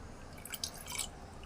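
Water drips and splashes in a few quick, close droplets as goat intestines are washed by hand, brief and fairly quiet with no speech.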